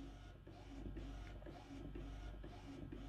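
A printer repeats its glitching mechanical noise in a steady rhythm of short whirring cycles with regular pauses, quiet and close.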